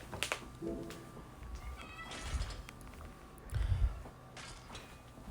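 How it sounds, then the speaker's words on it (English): A house cat begs for food after eating, giving several plaintive meows close by over faint room noise and a few soft thumps. "My cat just ate, and then she doesn't like to sit quiet after. She likes to beg for more food no matter how much she gets."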